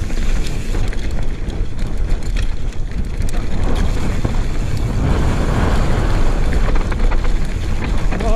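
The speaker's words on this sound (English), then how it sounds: "Oh, the braking bumps are real." Mountain bike rattling and clattering over braking bumps on a bike park downhill trail, a loud continuous chatter of chain and frame with wind rushing past the microphone throughout.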